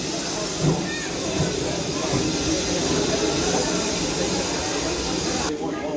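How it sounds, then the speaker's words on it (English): A steam train at a station lets off a loud, continuous hiss of steam that fills the scene, steady throughout and breaking off near the end, with people talking nearby. "That's the steam train and we're just waiting to go on it now."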